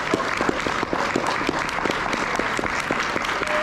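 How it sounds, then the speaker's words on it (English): Audience applause fills a comic book panel at a Dallas fan convention, steady dense clapping throughout from a crowd in a hall, with no break. "give a round of applause to these guys"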